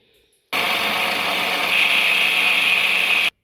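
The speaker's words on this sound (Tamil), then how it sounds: "மிக்சி ஜாரில் போட்டு அரைக்கணும்" A mixer grinder jar whirs steadily at high speed for about three seconds, grinding cooked cowpeas and bottle gourd, starting and stopping abruptly with no talking.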